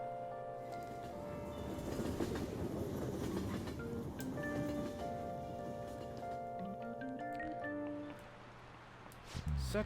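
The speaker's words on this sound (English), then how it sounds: "so the train's coming, let's line up." A train pulls into a station in the Persona 5 Royal video game, a steady rumbling rail clatter with tonal hum lasting most of the clip, easing off near the end before a brief sharper burst.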